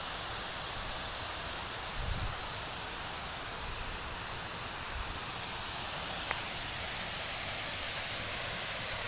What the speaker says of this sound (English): And they made this waterfall. I think it's the largest man-made waterfall in the U.S. right now.